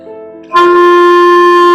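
A sustained clarinet note starts abruptly after a faint hum and holds steady and loud, rich in overtones.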